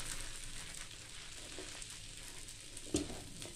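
Plain dosa batter spread thin on a hot griddle gives a soft, steady sizzle throughout, quiet and close, with a brief scrape or clink near the end.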